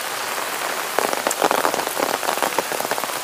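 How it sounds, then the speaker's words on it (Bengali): Heavy rain pours steadily at a hill station around Dow Hill in West Bengal, a dense hiss of drops striking surfaces with louder splattering bursts after the first second, continuous and close, with no voices. "দেখছেন প্রচণ্ড জোর বৃষ্টি হচ্ছে, প্রচণ্ড জোর।"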